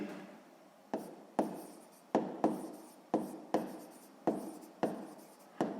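Pen strokes scratching on paper while working a sixth-grade maths exercise, heard as about nine short, distinct bursts spaced irregularly at close range, each fading quickly, with no talking.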